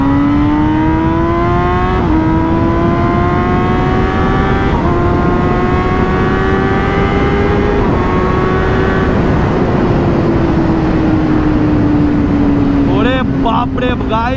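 A superbike accelerates hard on an empty highway toward 200 km/h. The loud, close engine whine climbs in pitch through several quick upshifts, then eases down near the end over steady rushing wind noise.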